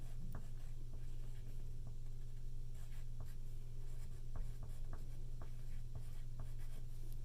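A pen or pencil scratches on paper close up in quiet, with short strokes and taps in an irregular rhythm over a faint steady hum.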